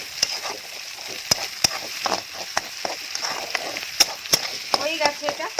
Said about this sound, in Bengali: 2টো ডিম ফাটিয়ে দিয়ে দিলাম। একটু নাড়াচাড়া করে ওর মধ্যে দিয়ে দেবো।